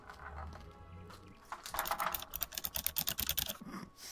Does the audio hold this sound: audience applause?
no